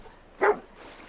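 A single short dog bark rings out in the video game Fallout 4, sharp and fairly close, over quiet background ambience with no talking.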